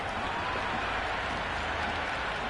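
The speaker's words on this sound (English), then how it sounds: "this match is certainly getting exciting and the crowd have joined the party. It's pretty noisy at the ground." Crowd noise at a cricket ground in the Cricket 26 video game, with fans cheering and clapping as a close match heats up, sustained and loud without a break.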